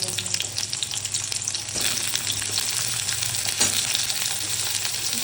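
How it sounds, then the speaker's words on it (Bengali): Chicken sausages fry in oil with garlic, producing a continuous close sizzle and crackle with occasional stirring scrapes. "চিকেন সসেসগুলো তেলের মধ্যে দিয়ে করে এটাকে ভেজে নেব"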